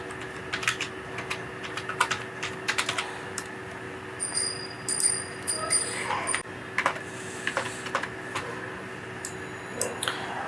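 Someone types a search on a computer keyboard in irregular bursts of quick clicky keystrokes, close and moderately loud, with a steady faint hum underneath.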